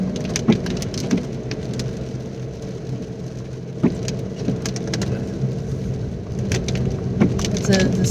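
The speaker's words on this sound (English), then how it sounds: "It's a disgusting rainy day." Steady rain falls on a dreary day, a dense, continuous hiss with scattered louder drops and knocks. It stays fairly close and runs under occasional quiet movement.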